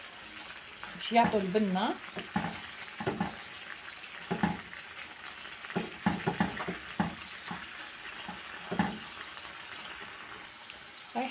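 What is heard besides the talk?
garlic frying in a pan for chicken dish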